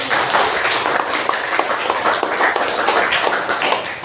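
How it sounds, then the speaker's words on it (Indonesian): Continuous clapping from a classroom full of students, steady and dense for the whole stretch with no talking over it. "jempol 4 berarti tepuk tangan untuk kalian semua."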